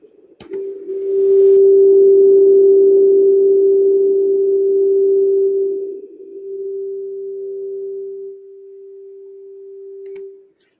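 A singing voice holds a single low fundamental tone, steady and pure like a sustained hum, loud and alone with no other sound for several seconds before it fades lower and trails off.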